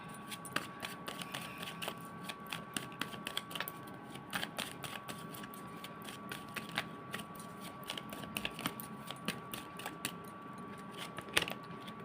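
Tarot cards are being shuffled and handled close by, giving a steady run of faint papery flicks and small clicks that go on throughout without talking.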